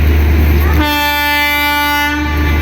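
A train arriving at Visakhapatnam Junction sounds a loud, sustained horn blast of about a second and a half over the heavy rumble of the rolling cars.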